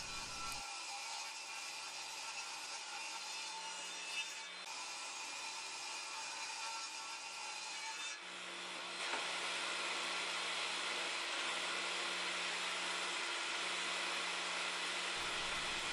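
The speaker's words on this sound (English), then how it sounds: "I'll use my table saw to cut an appropriate length and then rip that into a pair of strips" A table saw cuts ash wood into strips with a loud, steady high whine. About halfway through, the tone shifts and thickens as the blade bites, then it runs on continuously until near the end, with no speech.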